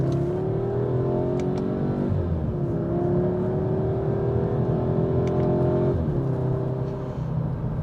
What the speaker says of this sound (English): So we're going to take a quick jaunt up this hill and see how she does.